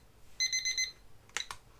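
A timer alarm goes off during a live auction, sounding a quick run of bright, evenly spaced electronic beeps, followed by a couple of short clicks.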